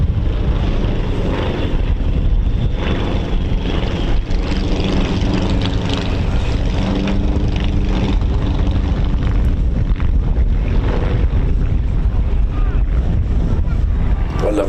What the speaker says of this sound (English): Shall we give them a quiet pass so you can hear the engines too?